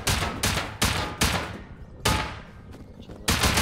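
Gunfire in the survival game Rust rings out as a series of loud, sharp shots in an irregular rhythm, roughly six reports with brief decays between them, alongside faint talk.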